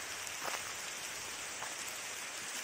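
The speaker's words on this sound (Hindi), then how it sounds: "बहुत तगड़ी बारिश।" Heavy rain pours among oak trees, a dense, steady hiss of drops close by with scattered louder splashes, no voices.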